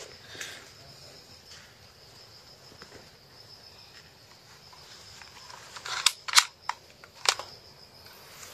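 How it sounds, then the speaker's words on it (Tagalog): Bullets are loaded into a gun, with a handful of sharp metallic clicks close by near the end after a stretch of quiet background hiss. "magkakarga lang tayo ng bala sa ating baril"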